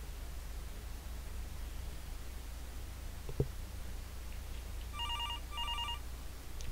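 Telephone ringing in the horror video game Fears of Fathom, two short electronic ring bursts near the end over a constant hiss of static, with a faint knock earlier and no voices.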